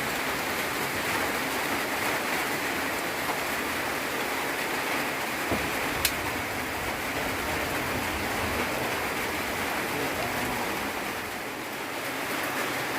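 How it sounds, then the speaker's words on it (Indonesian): Steady heavy rain pouring down continuously in a forest, a dense loud hiss with no letup and no voices. "Hujan lebat dan"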